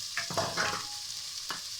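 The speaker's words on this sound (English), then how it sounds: "now I'm going to add the onions. Nice sizzling sound there." A quiet, steady sizzle of onions frying in hot oil, with a few soft scraping stirs cutting through near the start and end.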